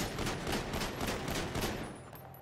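Gunfire in the video game GTA aimed at a car trunk, a rapid burst of many loud shots in close succession lasting a couple of seconds, with no talk.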